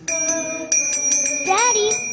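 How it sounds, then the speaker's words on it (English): A small bell rings repeatedly as a sound effect in a live stage radio drama, bright rapid tinkling strikes with a voice rising over the ringing near the end. "every time a bell rings, an angel gets his wings"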